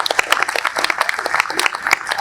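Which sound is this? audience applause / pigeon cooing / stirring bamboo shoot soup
audience applause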